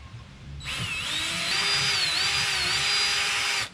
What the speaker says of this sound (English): I'll make those a little bit bigger now, and we'll drill the holes out.